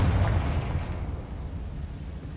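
Confringo spell explosion in Hogwarts Legacy, a deep booming blast at the start that rumbles and fades over the next two seconds, with no voices.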